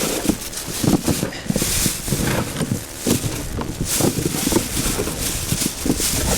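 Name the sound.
wind blowing outdoors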